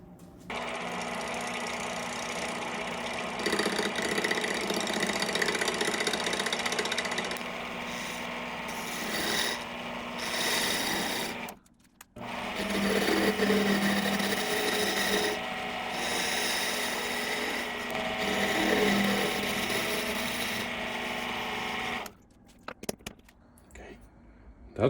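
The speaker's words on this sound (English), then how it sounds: "I can put it on the lathe and machine this surface" A lathe machines the clutch surface of a 1972 MG, a steady broadband grinding and rasping that runs continuously with a brief pause midway and stops near the end.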